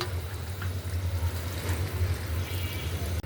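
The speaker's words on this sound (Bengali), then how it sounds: "তরকারিতে দিয়ে দিলাম গরম পানিটা, ঝোল।" Hot water is poured into a pan of fish curry with pumpkin and spices frying in oil, giving a steady, soft sizzling rush close up with no talking.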